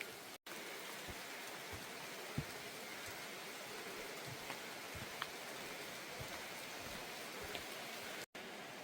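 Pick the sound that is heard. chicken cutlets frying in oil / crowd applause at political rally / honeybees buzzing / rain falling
rain falling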